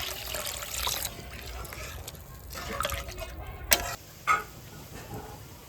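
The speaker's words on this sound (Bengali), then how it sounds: "এইবার আমি জল দিয়ে দিচ্ছি পরিমাণ মতো।" Water is poured into a mustard pomfret fish curry in the pan, a soft close trickle and splash with a few brief drips toward the end.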